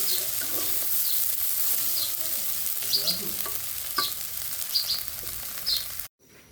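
Potatoes for Bengali-style aloo bhaji sizzle and crackle in a hot pan, with occasional stirring scrapes, a steady close frying hiss that cuts off abruptly near the end.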